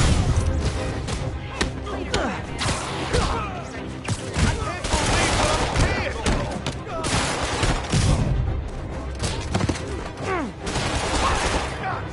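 Sustained bursts of enemy gunfire in Marvel's Spider-Man, with dense overlapping shots and crashes continuing steadily throughout, loud and close, mixed with game voices.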